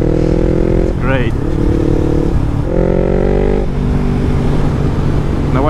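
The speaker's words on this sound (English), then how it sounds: "people see this bike coming down the road and then it's just thunder out the exhaust" A Yamaha MT-03 motorcycle engine roars loudly through an open full exhaust, revving in rising sweeps that drop back to a deep, steady rumble.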